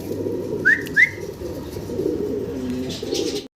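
Pigeons from a pair of high flier birds, with a couple of short cooing calls near the start over steady background noise, otherwise fairly quiet.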